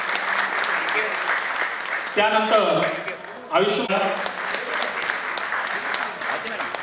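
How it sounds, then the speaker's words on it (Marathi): An audience applauds at a student felicitation ceremony at a hospital, a steady wash of clapping with an announcer speaking over it partway through. "जोरदार टाळ्या सरांसाठी।"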